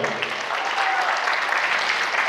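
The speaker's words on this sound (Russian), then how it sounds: "Ваши аплодисменты, конечно же, громкие." At a KVN comedy contest, an audience breaks into loud, dense applause, a continuous roar of clapping with a faint voice briefly audible underneath.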